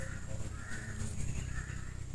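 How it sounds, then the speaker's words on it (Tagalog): A crow caws repeatedly in a rough, harsh series, with a faint steady background and no voices. "pag yung klaseng tunog ng uwak, kakaiba yan"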